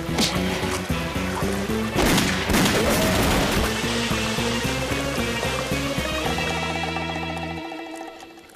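Rapid cartoon gunfire from Lucky Luke's revolver, a dense burst of sharp repeated shots over lively orchestral music, loud and close, with the music carrying on after the shooting fades.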